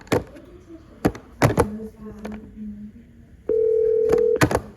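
A telephone handset gives clicks and knocks from handling, then a steady dial tone sounds for about a second, with more clicks and thumps around it. There is no speech.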